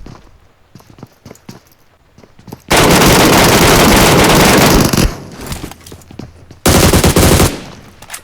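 Bursts of M4 and AK rifle fire in a shooting video game: two long loud sustained volleys separated by quieter stretches of scattered sharp shots and footstep-like clicks, no talking.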